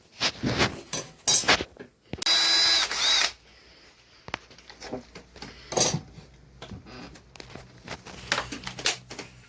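A power drill whirs in a short burst, boring a small pilot hole into reclaimed wood, surrounded by scattered clicks and handling noises of tools.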